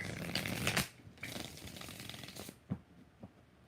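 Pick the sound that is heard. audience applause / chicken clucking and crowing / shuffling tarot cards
shuffling tarot cards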